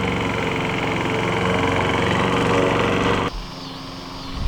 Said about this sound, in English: push the lawnmower